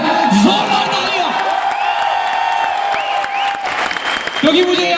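A huge crowd at an award function in a stadium of over 10,000 people claps and cheers loudly, with whoops rising above a continuous roar of applause and a voice speaking over the noise.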